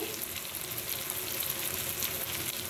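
Tomato, green chili and Kashmiri red chili powder frying in a pan, a steady, fairly quiet hiss of sizzling oil with no talk.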